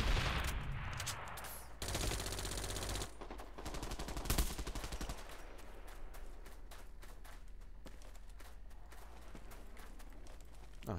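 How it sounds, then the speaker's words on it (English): Mortar strike explosions boom in the video game Bullet Run, opening with heavy blasts and followed by dense, rapid gunfire crackling steadily throughout, with no talk. "here comes the mortar strike!"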